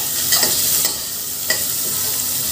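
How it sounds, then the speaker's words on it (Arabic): Chopped onions frying in oil in a pan, a steady close sizzle with a couple of stirring scrapes and no talking. "نحمر البصل عشان اعمل الكوسه"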